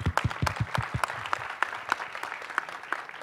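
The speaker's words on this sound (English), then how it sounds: "Please applaud them." Scattered applause from the audience at a Marathi film music launch as two children come on stage, distinct individual claps settling into a steady patter, moderately quiet and without talk.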